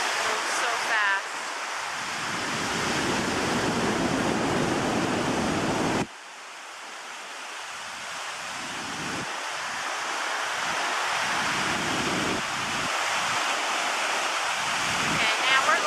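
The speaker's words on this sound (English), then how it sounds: "now we're looking straight down a waterfall." A waterfall in Yellowstone's canyon, heard from right above the drop, where fast water pours over the edge in a loud, steady, broadband roar that never lets up.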